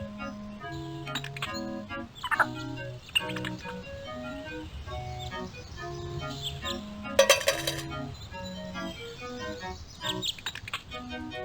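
Chirpy synthesized bird tweets at a bird seller's shop in a Sherlock Holmes adventure game, scattered short whistles and clinks over a steady tonal music backdrop, with one sharp louder burst partway through.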